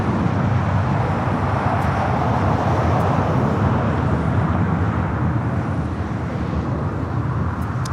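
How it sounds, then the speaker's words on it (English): A SkyWest Embraer E175 jet takes off at LAX, a loud, steady broadband engine roar that holds strong throughout without fading, heard from nearby. "Skywest 3437 taking off to La Paz on the E175"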